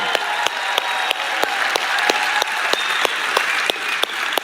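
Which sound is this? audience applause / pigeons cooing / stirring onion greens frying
audience applause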